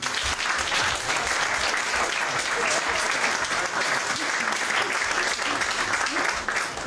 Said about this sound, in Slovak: A teraz poprosím jeden potlesk.